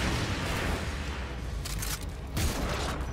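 Shotgun fire in the video game Metal Gear Survive, dense booming blasts over continuous loud combat noise, with two sharper bursts standing out amid the chaos.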